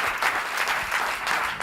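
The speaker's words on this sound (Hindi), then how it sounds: "ताली बजानी है तो यीशु के लिए ताली बजाएं" A congregation claps together during a Friday church service, a dense, steady burst of applause that fills the room at close range and carries on throughout, with no talking over it.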